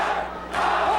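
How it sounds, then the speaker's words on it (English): A hostile wrestling arena crowd roars and shouts in a dense, swelling wall of voices that grows louder halfway through a brief moment. "And listen to that crowd."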